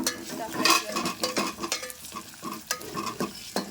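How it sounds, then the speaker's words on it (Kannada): Onions fry in a pan with a soft background sizzle, broken by repeated scraping stirs and light clinks of a spoon against the metal at an irregular, close rhythm. "ಸಾಕು ನಮ್ಗೆ ಇಷ್ಟೇ ಫ್ರೈ ಆದ್ರೆ ಉಳ್ಳಾಗಡ್ಡಿ ಜಾಸ್ತಿ ಇರುತ್ತೆ"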